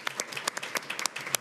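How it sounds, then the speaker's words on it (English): Short burst of applause at a Metro Nashville Public Schools board meeting, a smallish group clapping with distinct individual claps heard close by. "So I think all three deserve a round of applause."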